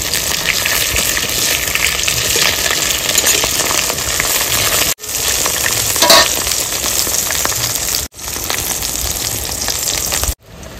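Eggplant slices sizzle steadily in hot, foaming oil in a village kitchen, a loud continuous frying hiss broken by a few brief silent cuts.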